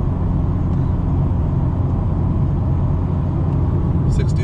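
A Honda Civic Si, eighth generation, with a Full Race 76mm exhaust gives a steady, loud low rumble near 2700 RPM, an even drone with no distinct revs.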